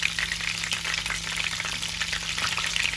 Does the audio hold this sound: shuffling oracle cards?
no